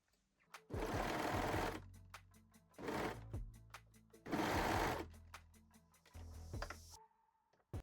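Sewing machine stitching white elastic onto bralette side seams, running in three separate bursts of about a second each, with soft clicks and handling noises in the pauses between them.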